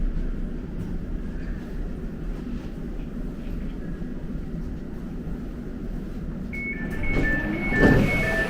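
Elizabeth Line train arriving at Bond Street station underground: a steady loud rumble of wheels and motors inside the carriage, swelling toward the end with rising whines and squeals as it brakes.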